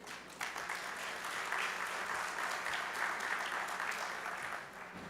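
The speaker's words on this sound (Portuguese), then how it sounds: "Uma salva de palmas para ele." An audience at a panel event on agriculture and sustainability claps steadily for several seconds, a dense even patter of many hands heard at a distance in a hall.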